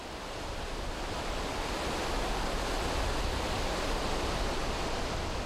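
Indian Ocean surf roars steadily and loudly, a dense unbroken wash of breaking waves where a girl swims out through high swells, with no voices.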